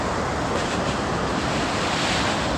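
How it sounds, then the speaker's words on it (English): Water pours out of a cave outlet beside a hiking trail, a dense, steady rushing roar heard close and loud throughout with no talking. "Water's coming out of there."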